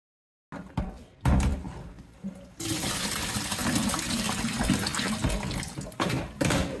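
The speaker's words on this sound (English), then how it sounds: "I'm just going to start putting this in water and getting the salt off" Salted cabbage for canned slaw being rinsed under running kitchen tap water, a steady close splashing stream after a few brief clatters and knocks at the sink.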